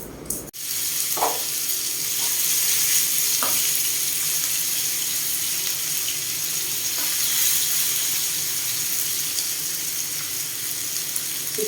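Chicken fries in a pan with a loud, dense, unbroken sizzle, opening with a sharp clatter and broken by a few soft stirring knocks, close up with no talking.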